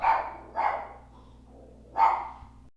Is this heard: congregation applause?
no